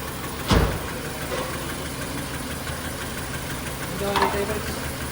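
Toyota Altis engine misfiring with lost compression in cylinders 3 and 4, a rough uneven idle with a couple of sharp knocking thumps over a steady engine drone, heard up close.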